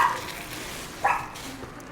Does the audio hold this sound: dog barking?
yes